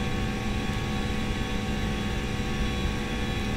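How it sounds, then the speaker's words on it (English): An Aerosoft A320 jet airliner in a flight simulator game rolls for takeoff on runway 23 left at Queenstown, New Zealand, with a steady, loud, broadband engine roar that holds constant throughout, without speech. "Runway 23 left, clear for takeoff"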